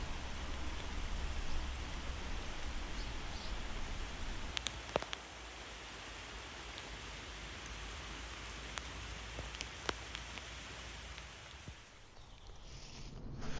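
Heavy rain pours down steadily over a garden and a newly built garden bridge, a dense, even hiss of falling water broken by a few sharper drips and taps close by.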